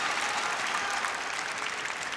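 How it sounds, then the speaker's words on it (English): A Korean crowd at a Korea Open table tennis match cheering "Huaiting" in steady unison, a loud, dense roar with no breaks. "as we hear the Huaiting from the crowds"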